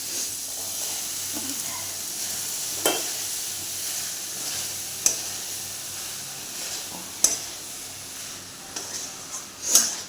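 Boiled peas tipped into spiced oil for ghugni give a soft close sizzle and hiss, with a few sharp clatters of a spoon stirring in the pan.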